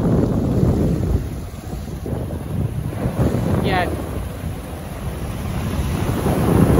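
Big ocean waves crashing against a cliff under strong wind, a loud continuous wash of surf and gusting wind noise with a brief voice in the middle.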